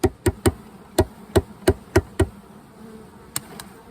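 Honeybees buzz on a hive frame during a swarm check, a low steady drone heard close, broken by a series of sharp knocks and taps at irregular intervals.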